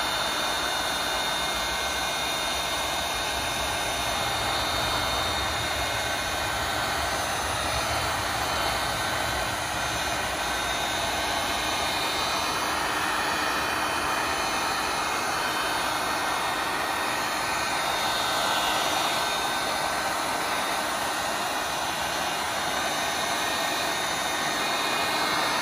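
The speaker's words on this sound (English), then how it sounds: "Now I've got my heat gun. Now watch how it just shrinks. My heat gun's on really, really high." Heat gun running on high heat while shrinking vinyl wrap film, giving a steady, loud, broadband blowing roar with a constant high whine that continues unbroken throughout.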